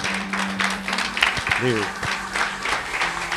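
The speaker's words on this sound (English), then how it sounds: "give a big round of applause for Brandon Carter" A conference audience applauds for Brandon Carter, sustained moderate clapping filling the room while someone speaks briefly over it.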